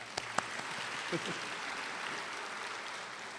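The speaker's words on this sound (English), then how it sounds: "I think we can applaud for that." An audience at an honors recognition ceremony claps for a student award, a broad, fairly faint wash of applause from a large room that stays level, with a couple of sharper knocks near the start.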